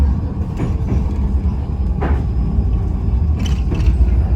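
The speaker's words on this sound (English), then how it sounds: "So the tram comes out of ground." An underground tram emerging from a tunnel into an open valley in Russia, giving a steady low rumble of wheels and motor that holds throughout, with a few brief higher rattles and squeals on top.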